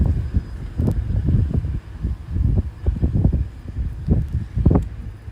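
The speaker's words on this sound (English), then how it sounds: "Yeah, hopefully the wind will come down." Gusty wind buffets the microphone outdoors at the SpaceX Starbase launch site in Texas, a steady low rumble with irregular swells and no other sounds.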